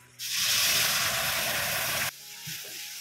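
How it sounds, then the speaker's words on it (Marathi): Tomatoes on a hot griddle letting off a sudden loud hiss of steam and sizzle that holds steady for about two seconds, then drops to quiet with a faint clink afterward. "टोमॅटो आहेत ना तव्यावरतीच मस्तपैकी बॉईल करून घेऊया"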